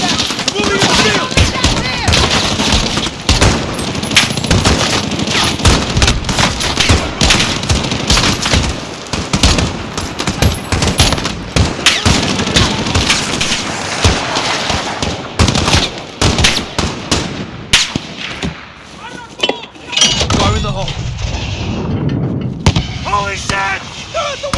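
Sustained automatic gunfire and rapid shots from an embassy attack in Call of Duty Modern Warfare, loud and dense throughout with shouted voices mixed in, easing briefly near the end before more firing.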